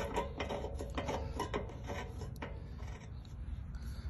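A wrench threads a new thermostat into an RV travel trailer water heater, producing rough scraping and ratcheting rasps in an uneven rhythm over a steady low background rumble, close by.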